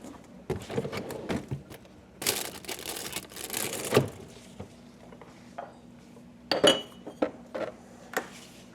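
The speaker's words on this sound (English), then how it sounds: "Let's wash some dishes." Dishes, pots and cutlery are washed by hand in a kitchen sink, with irregular clinks, clatters and scrapes of metal and crockery, plus bursts of running water between the knocks.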